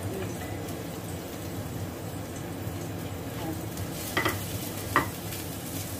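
Garlic sizzles in a pan with frying pork belly, a steady close hiss of hot oil broken by a couple of sharp clinks as it is stirred.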